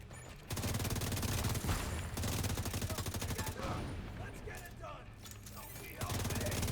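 Rapid automatic gunfire in a video game, bursts of dense shots rattling close and loud with short pauses between volleys, a voice speaking over parts of it.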